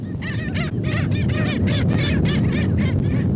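A flock of migratory birds at Lagoa do Peixe, a coastal lagoon, honks in rapid goose-like calls, loud and close, overlapping over a constant rumble of background noise.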